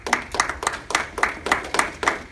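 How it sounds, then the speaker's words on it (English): An audience at a lecture in Austin, Texas claps in a steady, even rhythm, about four sharp claps a second, loud and close for the whole stretch with no talking. "Everybody clap, please."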